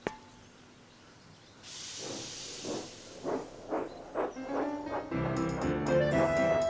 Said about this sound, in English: Thomas puffed proudly into the wharf.